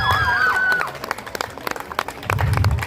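An audience bursts into applause, a dense crowd of claps that thins to scattered individual claps before swelling again, with a voice and a sliding tone heard briefly at the start.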